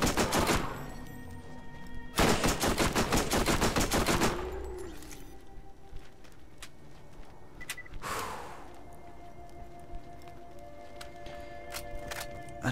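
SMG gunfire in the Borderlands video game: loud, rapid automatic bursts, one short at the start, a long sustained burst, then another at the end, separated by quieter in-game ambience and effects.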